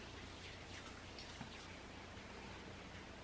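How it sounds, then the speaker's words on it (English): Soft, steady Oregon rain patters outside, a faint hiss with scattered drops, heard through an open window from indoors with no one talking. "My window's open. I can hear the rain outside."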